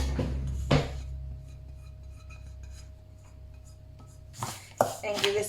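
Biscuit crumbs and melted butter are mixed together in a bowl, with a scraping, rubbing burst at the start, a quiet stretch, then a livelier run of spoon-on-bowl scrapes and clinks at the end.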